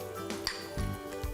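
Pasta being mixed with a creamy goat cheese sauce in a dish: a few close clinks and scrapes of a utensil against the dish, brief and fairly soft, with no talk.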